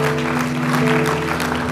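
A church congregation claps during a sermon, a short burst of brisk applause with a sustained musical tone beneath it.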